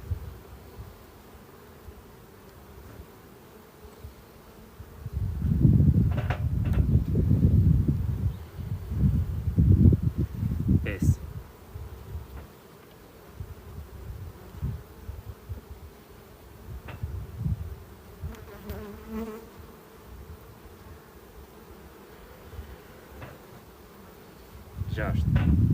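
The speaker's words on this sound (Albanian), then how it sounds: "Këtu sa po kanë dalë bletë të reja." Honey bees hum in a low, steady drone at an open beehive, swelling louder in close passes and fading back, with someone speaking quietly at times.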